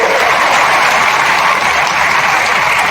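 Loud, dense applause from a crowd at a public event, continuous clapping throughout.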